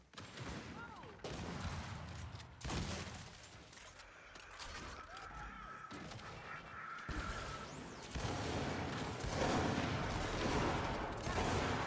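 Heavy bursts of rapid gunfire from the video game Gears 5 come in waves over the busy clatter and mechanical noise of a ranked Control match, loud and sustained, with a player's voice briefly heard.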